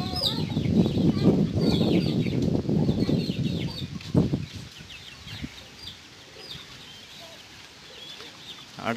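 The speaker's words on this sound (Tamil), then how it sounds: "அடுத்து நம்ம வந்து அடிச்சுக்கிட்டு இருக்கு தனியாக பிரித்து வச்சுருக்கிறேன்னு சொன்னது இந்த குஞ்சுகள் தான்" Fighting chicks of a Peru vedai breed, kept apart on a farm, cluck and flap their wings in a busy close scuffle that is loudest at first and then settles into softer chirps.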